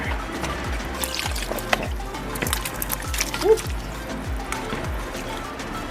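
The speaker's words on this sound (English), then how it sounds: "Let's turn this the proper way so we can just pour it all in here." Canned provisions and corn with their liquid poured into a pot of split pea and pumpkin beef soup, a splashing, gurgling stream with repeated sloshes, and a voice briefly speaking.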